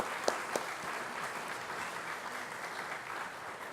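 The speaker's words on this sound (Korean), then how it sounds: "우리 다 같이 함께 서로에게 박수로 영광 돌리겠습니다." A church congregation claps together during a Sunday worship service, steady dense applause sustained throughout at a moderate distance, with a couple of sharper claps early on.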